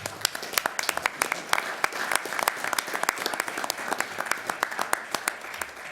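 Audience at a city council meeting applauding, with dense, steady clapping throughout and no clear cheering voices standing out.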